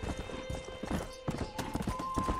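Horse hooves clip-clop in Red Dead Redemption multiplayer, a steady close rhythm of hoof strikes over ambient wind and game sounds, with faint talk in the background.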